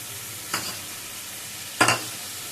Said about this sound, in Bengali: এবার এই মশলাটা একটু ভালো করে কষাবো গ্যাসটা কমিয়ে নেব